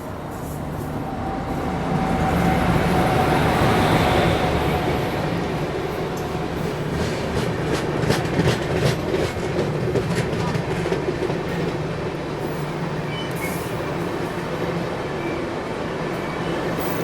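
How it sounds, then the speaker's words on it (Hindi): Sapt Kranti Superfast Express, from Anand Vihar to Muzaffarpur, overtaking on a parallel track: a steady close rumble and rattle of passing coaches with rhythmic wheel clatter, broad and continuous throughout. "आनंद विहार से चलकर मुजफ्फरपुर की ओर जाने वाली सप्त क्रांति सुपरफास्ट एक्सप्रेस हमें ओवरटेक कर रही है"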